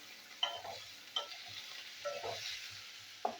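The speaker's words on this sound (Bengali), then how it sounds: "তো পেঁয়াজটা আমি ভেজে নিচ্ছি।" Chopped onion and green chillies fry in hot oil, a soft steady sizzle broken by a few sharp scraping stirs of a spatula in the pan, quiet and close with no talking.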